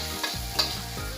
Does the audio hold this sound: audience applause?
no